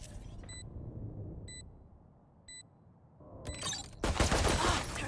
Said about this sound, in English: Placing swarm grenade.